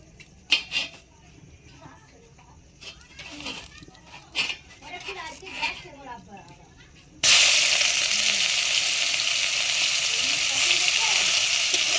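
Chopped onion drops into a little hot oil in a wok and erupts into a loud, steady hiss that continues unbroken, preceded by clinks and a voice in the room.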